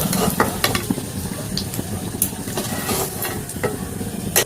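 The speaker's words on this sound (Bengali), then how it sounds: "আমি ডিমগুলোকে এইভাবে লাল করে ভেজে তুলে নেব" Eggs fry in hot oil in a pan, yolk side down, with a busy close crackling sizzle dotted with sharp spits and pops throughout.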